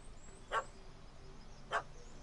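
Two short, moderately loud dog barks about a second apart in The Witcher 3 video game, over a quiet ambient background.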